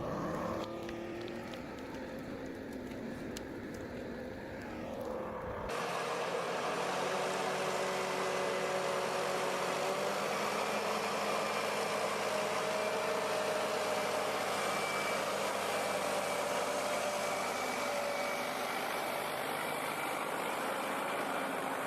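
Heavy timber forwarder engine running steadily in a forest, a loud continuous mechanical drone with a sudden shift in tone early on, then holding a constant rumble throughout.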